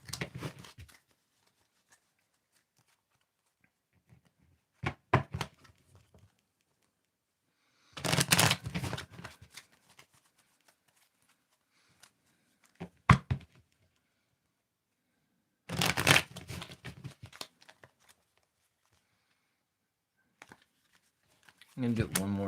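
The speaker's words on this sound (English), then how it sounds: "I'm gonna do one more shuffle." Tarot cards shuffled by hand in short riffling bursts separated by long quiet gaps, close and crisp, with a few soft taps and handling noises between.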